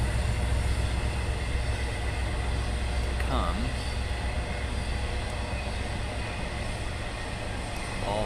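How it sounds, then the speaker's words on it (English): Trains roll past near a baseball field during an 8th grade game, a continuous low rumble filling the background while an announcer speaks briefly over it. "the trains continue"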